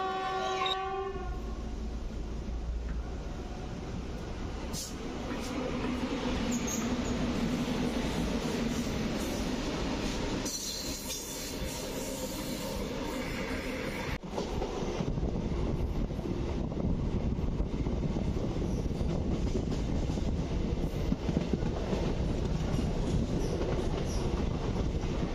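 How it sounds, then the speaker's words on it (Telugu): A Secunderabad–Siddipet DEMU train pulls out of Cavalry Barracks station, its horn sounding early, then a steady rumble and rattle of the carriages building as it gets under way, heard from on board. "సో ట్రైన్ అయితే క్యావలరీ బ్యారక్స్ నుంచి డిపార్చర్ అయింది."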